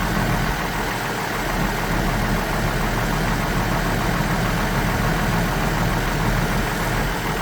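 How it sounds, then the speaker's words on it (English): A 2002 GMC Envoy engine idles with a steady, loud mechanical rattle from the front end and clutch fan, a constant close-up metallic chatter and hum with no talking. "I thought it was the radiator fan rattling. The whole front end's rattling."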